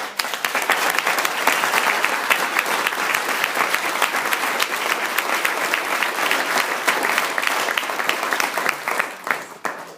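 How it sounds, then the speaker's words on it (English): Steady, dense applause from a large crowd, loud and continuous throughout with no voices rising above it. "just give them a round of applause here"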